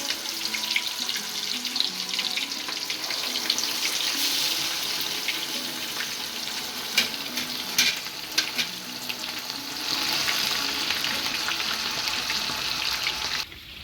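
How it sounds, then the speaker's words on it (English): Steady loud sizzling and crackling of fish frying in hot oil, continuous and close, with occasional sharper pops. "now I'm going to place the fish into this hot oil to fry"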